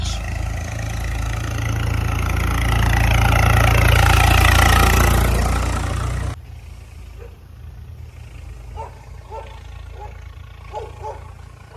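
A Swaraj tractor's engine rumbles loudly and steadily at close range for about six seconds, then cuts to a quieter scene of distant engine hum and faint background voices.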